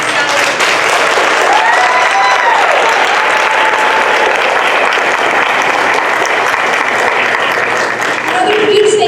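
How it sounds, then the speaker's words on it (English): Loud, sustained applause from a school theatre audience after a kindergarten-themed play, continuous dense clapping with whoops and cheers rising over it and voices in the crowd. "Can we please get one ginormous round of applause for Mr. Brown and the Sawyer family"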